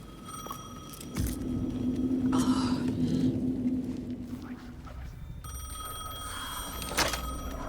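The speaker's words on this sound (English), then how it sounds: "The phone again." In Alan Wake 2 a telephone rings nearby, its bell sounding in short repeated rings over a low ambient rumble, with a thud near the start and no talking.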